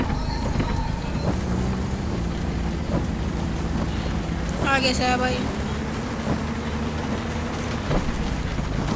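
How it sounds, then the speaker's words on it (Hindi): Heavy rain drums constantly on a UAZ Hunter driving through a Russian-road driving game, a dense wash over a low engine rumble, while someone talks briefly. "भाई यार बारिश तो बहुत तगड़ी होने लग गई यार, बहुत तगड़ी हो रही है भाई बारिश।"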